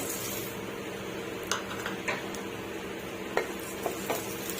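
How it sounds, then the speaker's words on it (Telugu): Raisins frying in ghee for a kheer semiya sweet, a quiet, steady hissing sizzle with a few light clinks and scrapes of a spoon against the pan. "ఇప్పుడు కిర్నీ పప్పు వేసుకొని ఫ్రై చేసుకుందాము అదే గీలో"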